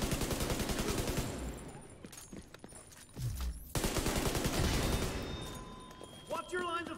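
Rapid automatic gunfire and bursts of shots in the shooter game The Division 2, loud and dense with brief pauses, game characters' voices calling out amid the firefight.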